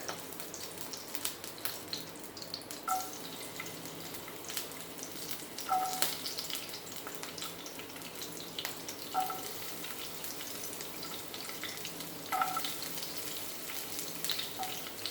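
Cumin and garlic sizzle in hot oil with a steady, close crackling hiss, broken by faint periodic ticks, and no voices over it.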